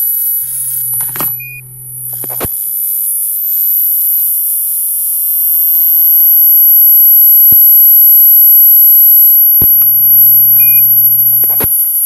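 Amateur radio SSTV transmission: a loud steady electronic tone sent over the air ahead of a slow-scan television picture, with short beeps and a brief lower tone burst at the start and again near the end.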